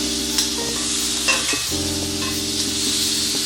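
Zucchini sizzling on a hot grill grate, a steady close hiss of frying with a faint hum underneath and a few small clicks, no voices present.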